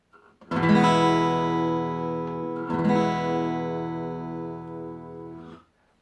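Guitar chord strummed across all strings, two ringing strums, the first left to sustain for about two seconds before a second strum that rings out and fades, close and alone.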